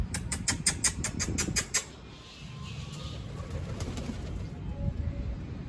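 Pigeons coo in low, soft murmurs through a steady outdoor background, with a rapid series of sharp clicking taps near the start.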